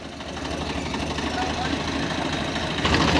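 A Swaraj 855 FE tractor engine idles steadily with a low, rumbling, continuous drone close by, slightly louder near the end.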